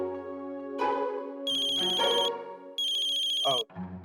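A telephone rings with an electronic melodic ringtone in a domestic drama scene, cycling through bright repeating tonal phrases, loud and close with no talking over it.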